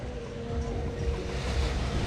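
Ocean surf at Playa Mamitas beach in Playa del Carmen rolls in as a continuous washing roar mixed with wind buffeting the microphone, with no speech.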